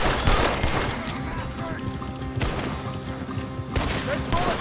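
Rapid gunfire in Red Dead Redemption 2 during a street shootout, with dense overlapping volleys and bursts of shots that come in waves, mixed with shouting voices.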